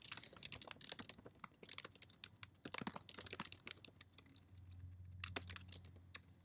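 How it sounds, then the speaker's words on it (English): Quick, uneven clicking of keys as someone types on a computer keyboard, close and fairly quiet, with short bursts of keystrokes, brief pauses and a faint low hum underneath. "Man, typing is going well for me this morning."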